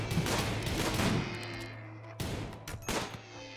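Colonists on a firing line in Rimworld shooting in a rapid volley, a dense burst of overlapping gunshots that fades after about two seconds, followed by a few sharper isolated shots, with a low steady hum underneath.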